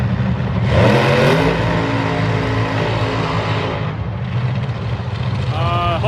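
A funny car drag racer's engine roars loud and steady at a nitro drag racing meet, the sound echoing off the tower, with a voice speaking briefly at the end.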